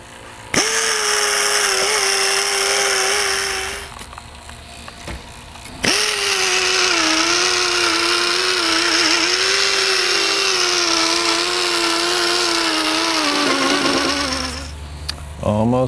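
A pneumatic air tool whines loudly in two long runs with a short pause between, its pitch wavering slightly as it works.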